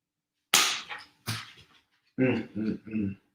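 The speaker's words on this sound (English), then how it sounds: "He's looking at the screen barking." A dog barks several times in short bursts, two sharp barks then three quicker ones, loud and close.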